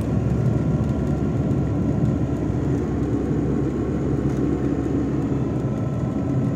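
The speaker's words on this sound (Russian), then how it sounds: "Добились мы с вами нормального шума в автомобиле Нива" Lada Niva 2131 cabin noise while driving in fourth gear, a steady low engine and road rumble with a faint whir, even and continuous, with no talking.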